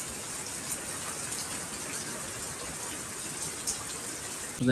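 Floodwater pours and gushes steadily after a full day of continuous rain, a loud, unbroken rushing wash of water close by with no voices over it.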